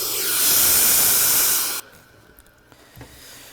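Kenmore Progressive 27514 canister vacuum drawing air through its hose, a loud, steady rushing hiss for nearly two seconds that cuts off abruptly, leaving only faint background noise.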